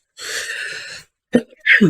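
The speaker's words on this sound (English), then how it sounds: "I just sneezed" A single sneeze from a man in a casual gaming chat, a sharp nasal burst after a short pause, followed by close breathy sounds.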